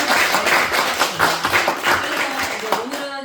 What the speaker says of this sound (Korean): 잘 부탁드린다고 박수 한번 받을까요?